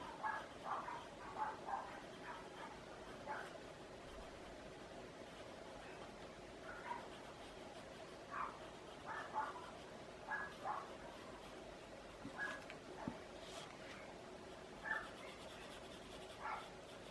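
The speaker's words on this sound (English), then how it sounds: "Dogs next door." Dogs bark next door during a quiet indoor drawing session, heard as faint, distant bursts of barking that recur in loose clusters across the whole stretch.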